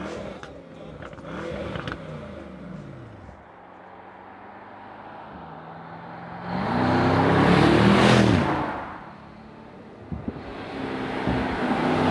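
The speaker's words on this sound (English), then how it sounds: "So now some Autobahn riding, and we'll start with an acceleration." Mercedes-AMG E63 S accelerates hard on the Autobahn, engine note climbing through gears from inside the cabin, surging to a loud roaring peak midway before easing back to a steady drone, with no speech.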